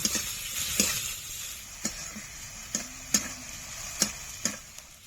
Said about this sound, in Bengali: পেঁয়াজ আর রসুনটা কিছুক্ষণ ভেজে নেব